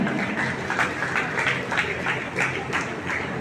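Applause at a government senior secondary school prize ceremony in Punjab, a steady crowd of hands clapping continuously for a few seconds at moderate distance in a reverberant space.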